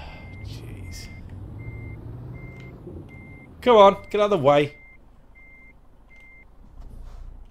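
Truck reversing beeps from a trucking video game, a steady run of evenly spaced short tones under engine rumble, with someone talking loudly over them partway through.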